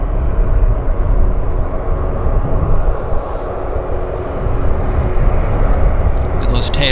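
An Air North airliner at Vancouver Airport, its engines giving a loud, steady jet rumble that stays close throughout and swells slightly near the end.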